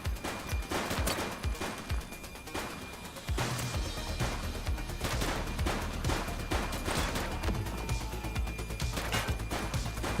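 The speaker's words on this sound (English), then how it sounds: "He's shooting!" Gunfire from a suspect during a police shootout in The Precinct video game, rapid loud bursts of shots and impacts cracking repeatedly over a steady rumbling background, with a heavier thud partway through.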